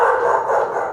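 Dogs bark in a brief, dense burst, a sound effect played during a tabletop horror role-play game, loud and close with no voices over it.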